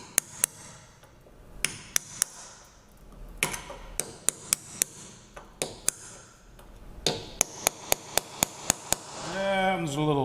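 Pop rivets being knocked out of an Indycar body panel, a series of sharp metallic taps and pings at irregular intervals, some in quick bursts, close and loud with light background noise.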